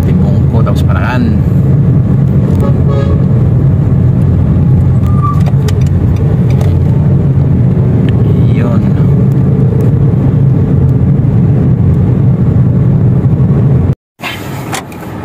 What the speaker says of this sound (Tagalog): Traffic talaga dito parte, oh.